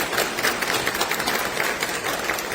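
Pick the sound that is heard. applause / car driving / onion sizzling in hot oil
applause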